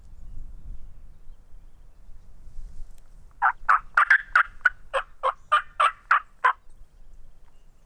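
A wild Rio Grande turkey gobbles in a fast run of about a dozen rattling notes over open Southwest Texas pasture, fairly close and loud against quiet background noise.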